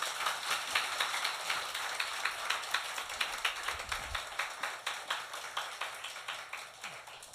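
A church congregation at a Sunday service claps to welcome the preacher, hands striking together in an even, repeating beat that carries on for several seconds with little talking.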